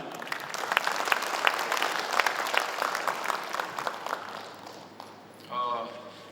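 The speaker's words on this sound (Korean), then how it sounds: "큰 박수 부탁드립니다." Steady, dense audience applause fills a launch ceremony for a regional job project as appointment certificates are handed to council members; the clapping holds for several seconds, then fades out.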